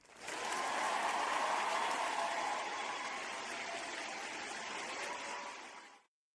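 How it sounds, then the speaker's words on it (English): A sustained round of applause from a crowd, dense clapping that swells in quickly, holds steady and loud for several seconds, then cuts off abruptly. "Where my round of applause?"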